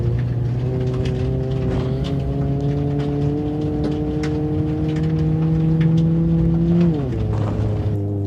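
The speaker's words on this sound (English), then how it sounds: "the engine's barely pulling revs" The engine of an Ibishu Hopper Classic in BeamNG.drive, held floored, drones loud and steady with a slowly rising pitch, then drops sharply near the end before settling again.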